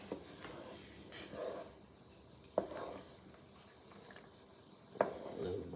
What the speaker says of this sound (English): So you see the way now it's boiling.